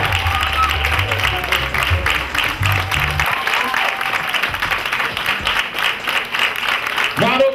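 Audience applause with whoops and cheers at a business event, dense clapping running steadily throughout, with voices shouting over it and a low rumble early on.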